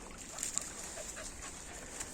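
A dog pants softly and fairly quietly in short rhythmic breaths, heard outdoors during a walk in the woods near a campfire, with faint background hiss and no talking.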